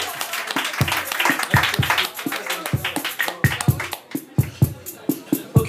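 Applause at a live concert in Angers, a small audience clapping with distinct individual claps close by, thinning into scattered sparse claps toward the end.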